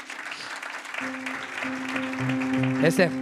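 A church congregation at a baptism service claps to acclaim the Lord, with applause building gradually beneath voices and sustained musical tones.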